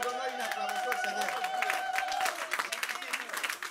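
A congregation at a French-language church service claps and cheers, dense applause mixed with raised voices and a sustained vocal tone, with speech heard through it.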